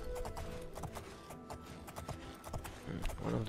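Horse hooves clop at a steady trotting rhythm in the Elder Scrolls IV: Oblivion, moderately close, with a muffled game ambience and faint voice in the background.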